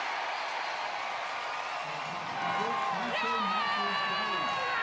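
A 15,000-strong crowd at the Sheraton Hawaii Bowl college football game between Hawaii and Cal, a sustained roar of cheering that swells louder midway through with whoops rising above the din, with no talk over it.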